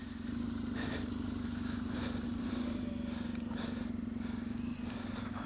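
Off-road motorcycle climbing a rutted slope with its wheel spinning, a steady droning engine note held throughout at close range, with no talk.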